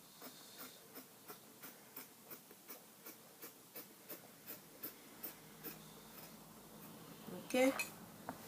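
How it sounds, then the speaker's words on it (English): Scissors snipping through trouser fabric on a table, a steady rhythm of crisp cuts about twice per second, quiet and close, with a louder clatter near the end. "Okay, so I'll just cut it out now."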